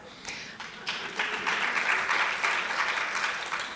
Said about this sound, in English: We can all clap for her.